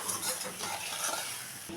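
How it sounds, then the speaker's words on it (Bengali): A spice paste of turmeric, salt and slit green chillies sizzles in a hot pan while it is stirred, giving a continuous close frying hiss with soft scraping. "মশলাটাকে একটু ভালো করে কষিয়ে নেব।"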